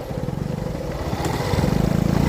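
A motorcycle crosses a river, its close engine chugging in rapid, regular pulses that grow slightly louder and heavier as it pushes on.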